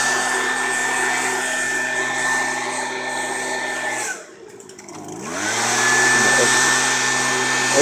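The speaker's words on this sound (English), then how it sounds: "Excellent job for just learning how to use the blower" A leaf blower runs loud and steady during lawn care work, its motor dipping briefly as it throttles down or turns away, then ramping back up to a full, even roar.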